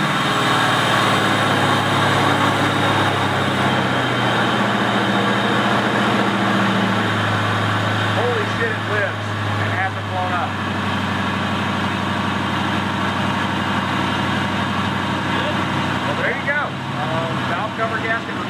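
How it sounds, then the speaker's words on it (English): A 1986 Ford Mustang Fox body engine runs at a steady, loud idle with a low rumbling drone, and faint voices come and go beneath it. "All right, here we go. We're going to try to start it."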